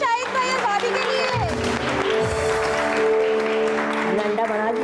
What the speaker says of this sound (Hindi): बहुत सारी तालियां शाहिद भाई और भाभी के लिए